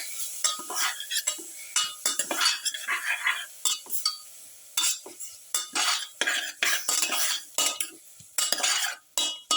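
Crushed pepper, garlic and squid being mixed hard in a bowl, a busy run of wet clinking and scraping strokes in uneven bursts, close and fairly loud, with no talk.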